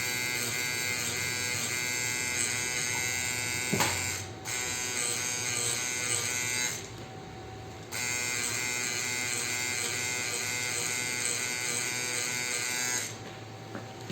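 A tattoo machine buzzes in a steady, close electric drone while doing quick shading on artificial skin, broken by a couple of brief pauses and a click.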